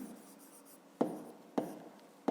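A pen scratches steadily while a fifth-grade math solution is written out, with three sharper taps as the pen strikes the page, close and fairly quiet.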